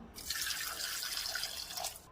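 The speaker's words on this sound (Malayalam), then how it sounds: "വെള്ളം ഒഴിച്ചു കൊടുക്കാം" A steady stream of water pours into a pressure cooker holding beetroot, chilli and tomatoes for rasam, close by, making a continuous splashing hiss for about two seconds.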